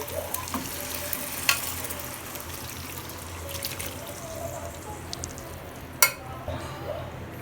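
A spoon scrapes and stirs through mutton curry (salna) in a pan, steady bubbling and sizzle underneath, with a couple of sharp clinks against the metal.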